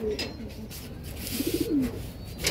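Pigeons in a loft give soft, throaty coos, a short rolling series of them close by, over a faint background of low murmuring voices.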